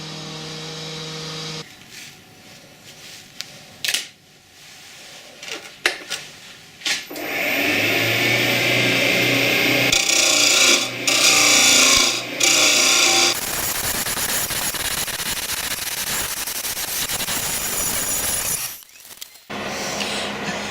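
A wood lathe spins a small wand while a tool cuts a bead, a sustained whine and rasping cut that rises loud and steady after some quieter handling knocks, then cuts off briefly near the end.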